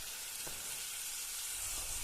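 Cumin and mustard seeds tempering in hot oil for a bitter gourd dish, with a steady, dense sizzle and hiss throughout, close and even in level, and a couple of faint stirring clinks.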